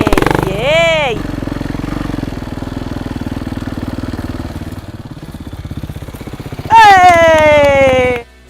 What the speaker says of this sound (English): You want to slowly release the clutch as you give it some throttle.